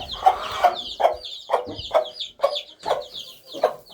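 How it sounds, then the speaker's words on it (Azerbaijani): A broody hen clucks steadily up close in a garden coop, giving about nine evenly spaced, throaty clucks with no talking. "Toyuqlarıma baxıram, polluqdan hələ də durmayıblar."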